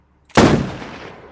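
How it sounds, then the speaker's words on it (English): A sniper rifle fires once, close and loud, in a multiplayer shooting video game: a single heavy blast that rings on in a long fading tail. "God, I love that sniper rifle"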